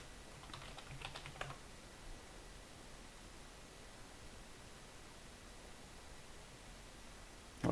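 A short burst of computer keyboard keystrokes types a search, quick soft clicks near the start that give way to a faint, steady hiss.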